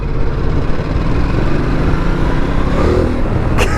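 A 2019 Ducati Multistrada 1260 Pikes Peak Edition motorcycle rides along at a steady pace, its engine drone blended with loud, continuous wind rush throughout.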